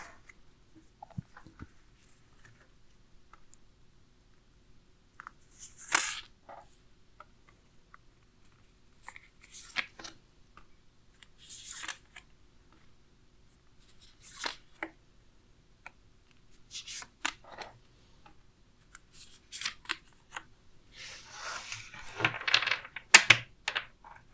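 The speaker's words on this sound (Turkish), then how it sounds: "Öncelikle bilge kartlardan sizin için bir kart seçiyorum." Tarot cards being shuffled and picked: scattered light riffles, taps and soft slaps of card stock, close and fairly quiet, in irregular bursts that grow busier toward the end, with no talking.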